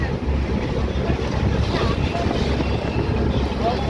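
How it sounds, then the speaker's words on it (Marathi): Out at sea near Alibag and Mandwa, a speed boat runs fast past a moving vessel, its roar buried in steady wind and water rush, with a voice talking over it. "समोरून बघा स्पीड बोट येते किती फास्ट आहे बघा स्पीड बोट"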